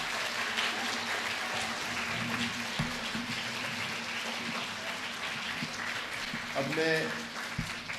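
Audience applause at a drama workshop welcoming event, a steady broadband patter of clapping filling the room while someone speaks over it near the end.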